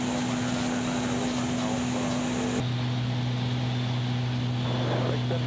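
An Extra 300 aerobatic airplane's propeller engine on landing approach, heard as a steady close droning hum whose pitch drops abruptly partway through as power comes back, with cockpit noise and no talk.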